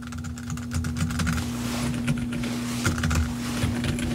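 Typing clatters steadily on an Aula F87 Pro low-noise mechanical keyboard with Outemu Peach switches and a Logitech MX Keys Mini, muted close keystrokes over a constant low hum.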